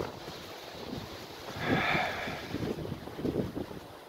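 Gusty wind buffets the microphone in rough, rumbling bursts that swell midway and keep flaring toward the end, with no voices.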